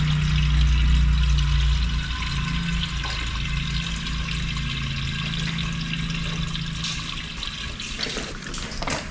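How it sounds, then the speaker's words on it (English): Water pours steadily into the radiator of a truck, a continuous gurgling, splashing flow that stays loud and close throughout, with a low rumble underneath at the start and no talk. "filling the radiator, take 2"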